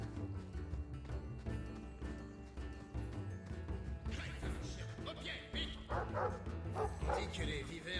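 Dogs barking in the Dragon Age 2 video game, sharp yips and barks mixed into a dense, loud game soundtrack with crashes and voices.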